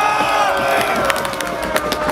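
An audience at a competition cheering and shouting together, a loud, close crowd roar lasting a couple of seconds with scattered sharp whoops on top.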